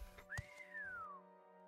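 Characters in the video game Morrowind whistle a single rising-then-falling tone, clear and fairly close, over a steady low game hum with no talking.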